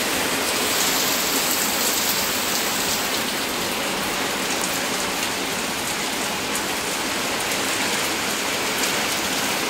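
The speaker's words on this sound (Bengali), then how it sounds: "এই জায়গাটা থেকে জল পড়ছে" Water pours down through a leaking, cracked asbestos kitchen ceiling, a dense continuous rain-like hiss of falling drops, loud and steady throughout with no voices.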